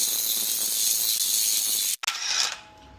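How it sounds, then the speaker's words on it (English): Socket wrench ratcheting steadily on the CV axle nut of a 2019-2024 Nissan Altima, a continuous close clicking for about two seconds, then a brief pause and a short burst of looser mechanical rattle. "Next we are going to remove the CV axle nut."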